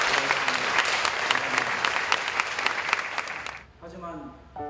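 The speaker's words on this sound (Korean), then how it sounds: "우리 박수로 축하하겠습니다" An audience in an Air Force Academy chapel applauds a baptism with dense, lively clapping for several seconds; the applause then stops abruptly and a single voice begins speaking.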